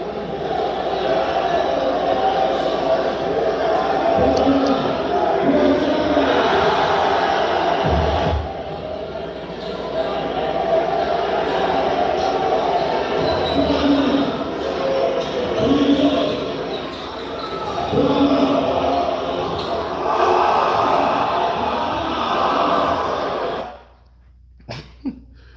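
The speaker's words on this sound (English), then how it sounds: "Anything, they just cheering." A crowd roars at a Drew League basketball game featuring LeBron, with loud, sustained noise that swells repeatedly, occasional ball bounces, and voices talking within the din before it drops away near the end.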